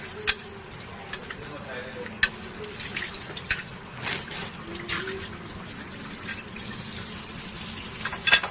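Water from a kitchen tap runs while dishes are washed, a steady hiss broken by clinks and knocks of utensils and plates, close by.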